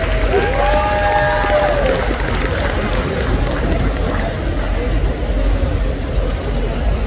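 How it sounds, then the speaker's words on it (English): A crowd at a tattoo expo pinup pageant claps and cheers steadily, a dense wash of applause filling the whole stretch at fairly loud level. "Round of applause for Miss Willow, please"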